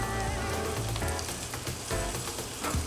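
Asparagus and broccoli sizzling in butter in a hot pan, a continuous dense crackling fry with small pops, close and steady.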